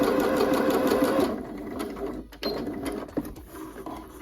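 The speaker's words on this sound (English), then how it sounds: "I'm gonna baste right across the top just to hold that in place." A sewing machine basts a long stitch across the top of a pair of joggers, a fast loud rhythmic whir for the first second or so, then slower intermittent clicks and handling.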